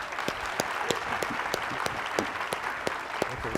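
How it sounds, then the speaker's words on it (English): Applause for project representatives at a university colloquium, a fairly thin group clapping at moderate distance, with a few sharp, distinct claps standing out over the steady patter. "let's give a round of applause to our project representatives"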